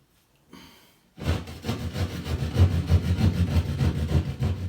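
A saw cuts a hole through a house wall steadily with a rough, rhythmic rasping after a brief quiet start, loud and close throughout.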